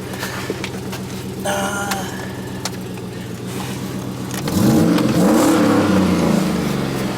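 A 2008 GMC Sierra 1500 pickup engine with a new straight-through exhaust idles with a deep rumble, then revs up into a louder, throaty exhaust roar that holds steady.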